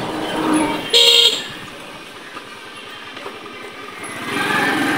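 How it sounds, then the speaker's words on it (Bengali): A car horn blares loudly for a moment at a village road jam caused by jute trucks in Bangladesh, with steady engine rumble and traffic noise continuing throughout. "পাটের ট্রাক দিয়া রাস্তা জ্যাম।"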